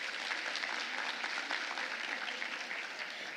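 Audience applause at a public integrity congress in Rio de Janeiro, a steady dense wash of clapping from a large seated crowd, fairly quiet and even throughout.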